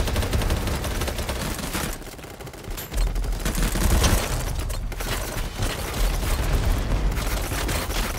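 Kriss Vector SMG fire in BattleBit crackles in fast, loud automatic bursts, with brief lulls between volleys and other distant shots mixed into the battle.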